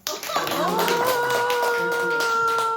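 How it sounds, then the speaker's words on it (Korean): A workshop lecture audience breaks into a round of steady clapping, with a voice and a held tone carrying over the applause. "박수 한번"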